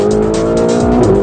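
Ferrari 488 GTB engine roars loudly and close as the car drives hard, a continuous revving tone with a brief shift in pitch near the end.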